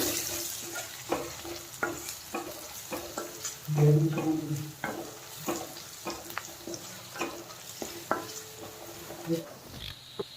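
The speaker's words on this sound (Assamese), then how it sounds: "হালধি দি ভালকৈ মিক্স কৰি ল'ম।" A spoon stirs turmeric through chana dal frying in a pan, repeated scraping strokes over a steady close sizzle, with one louder clatter midway.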